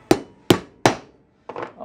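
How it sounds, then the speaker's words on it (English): Three sharp, evenly spaced hammer strikes drive wheel lug studs into a brake rotor hub, loud and close, followed by a softer, duller knock. "hammering them in, sometimes you don't get them perfectly straight up and down"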